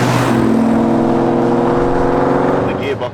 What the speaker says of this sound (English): And to drive the car, it drives really well.